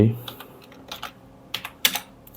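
Typing on a computer keyboard: a short run of light, close key clicks in an irregular rhythm, a few taps louder than the rest, with no talk over them.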